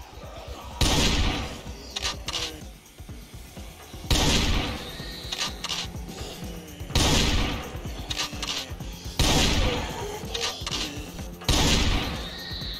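Gunshots in the zombie survival game Project Zomboid: five loud, sharp blasts spaced roughly two to three seconds apart, each trailing into a brief rumbling tail, with little else between them.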